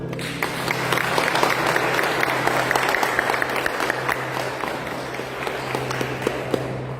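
A church congregation at a Sunday service breaks into sustained applause, a dense, even wash of many hands clapping that carries on for several seconds over a low steady hum.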